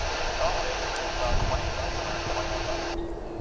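Boeing 747 taxiing on a runway at DFW Airport, a steady broad jet-engine roar with a high whine that cuts off abruptly near the end, heard from a distance under faint talk.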